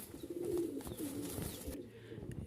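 Giribaj pigeons, a female finishing her moult, coo in low murmuring phrases while wings flutter restlessly close by, a steady busy mix of soft calls and rustling.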